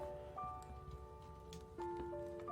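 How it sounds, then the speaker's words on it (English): Steady rain patters in Fractured Minds, a soft, even hiss beneath quiet sustained musical tones. "Distracting rain."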